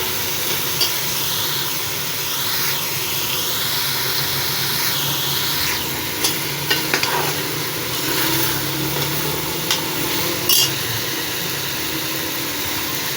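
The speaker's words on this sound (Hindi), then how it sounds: "शलजम और मसाला बहुत अच्छे से भून चुका है" Turnips and spices frying in a pan, a steady close sizzle with soft stirring scrapes and occasional sharper clinks over about thirteen seconds.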